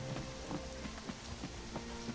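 Rain falls steadily in the video game Conan Exiles, a soft continuous patter with faint drops tapping throughout, fairly quiet and with no voices.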